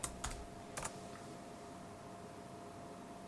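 A few quick keystrokes on a PC computer keyboard while entering a DOS command, faint sharp clicks in a short cluster at the start followed by quiet room hiss.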